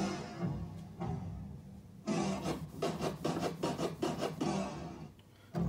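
A Rane Twelve DJ turntable controller being scratched with pitch lock on: a run of quick, raspy back-and-forth scratch strokes over a faint background, close and fairly quiet, with no talking.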